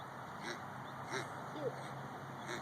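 Ducklings or ducks quacking in short, scattered calls at moderate distance over a steady background hiss, several soft bursts spread across a few seconds.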